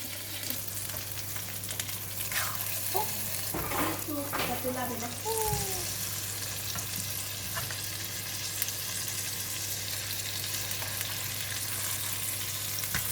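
A salmon steak fries in a non-stick pan with a constant close sizzle. Brief scraping and handling noises come midway as it is flipped.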